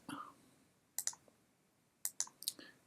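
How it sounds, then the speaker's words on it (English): Faint, close computer mouse clicks on a play button in a game editor, a single double click followed about a second later by a quick cluster of several clicks in an otherwise quiet room. "Click on that."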